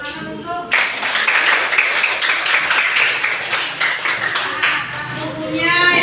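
A group of children claps together during a cooking lesson, a dense burst of hand claps lasting several seconds after a short spoken line, with voices before and after.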